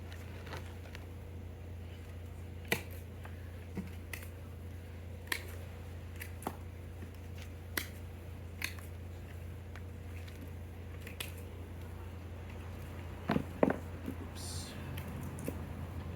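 Scissors snip back the roots of a Mimosa bimucronata yamadori bonsai tree being fitted into a pot: sharp, sparse clicks and cuts at irregular intervals, close but quiet, over a low steady hum.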